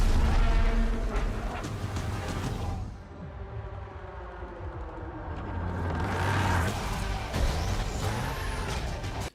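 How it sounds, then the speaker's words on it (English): A Ripsaw tracked vehicle in the Battlefield 2042 video game rumbles past with a heavy, grinding engine roar, swelling, dipping, then building again as it moves by amid distant battlefield noise. "So this thing here, driving past the penguins, is I believe called a Ripsaw."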